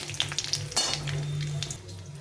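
A five-spice tempering crackles gently in a pan of hot oil, a soft sizzle broken by a few light utensil clinks and scrapes near the start, with no voices.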